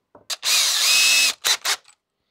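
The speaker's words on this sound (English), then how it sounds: "So let me grab a 3/16 drill bit." A power drill fitted with a 3/16 drill bit gives a short spin-up, then one sustained high whine for about a second, followed by two quick bursts as the trigger is pulsed, close and loud.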